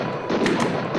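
A shotgun fires in the DOS game Harvester, giving a couple of short, punchy booms in quick succession over a hissing background.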